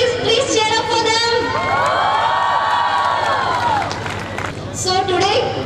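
A crowd at a college convocation ceremony in Kalaburagi cheers, shouts and whoops loudly and close by. Sustained high, wavering yells swell in the middle, with voices speaking at the start and end.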